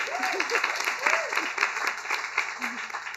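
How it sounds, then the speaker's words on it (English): A conference audience applauds a speaker, a short burst of clapping at moderate level, with voices talking over it. "Can we get a round of applause for Victoria, please?"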